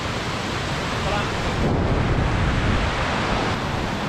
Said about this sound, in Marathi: बघा, असा ओढा आहे.